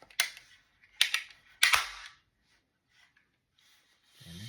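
Homemade gun trigger assembly, freshly inletted and sanded, dry firing: three sharp mechanical clicks and snaps close together, followed by a faint rustle and quiet.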